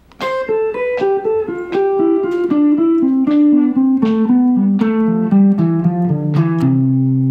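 Guitar runs down a scale in fast, even eighth-note triplet groupings, bright plucked notes tumbling steadily lower, played close and alone.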